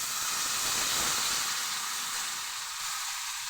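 Water hits a hot pan of fried spice paste with ginger and bursts into a loud, continuous hiss of sizzling and steam that fades slightly toward the end, heard alone and close.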